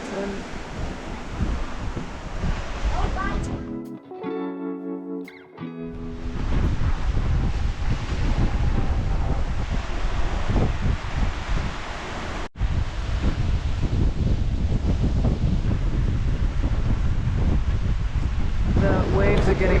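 Loud, steady rush of wind and surging waves around a sailboat running fast in the Gulf Stream off the US East Coast, a continuous roar that drops briefly near the start before returning full strength.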